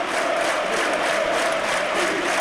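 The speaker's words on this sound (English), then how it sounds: "Listen to the crowd" A full-house football crowd at Turf Moor rejoices, a steady distant roar of many voices cheering and chanting together without pause.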